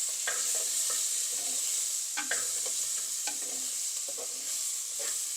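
Dried fish, a koduva karuvadu, fries in a pan with a soft continuous sizzle and intermittent crackles and light pops. It sounds close but fairly quiet, with no talk.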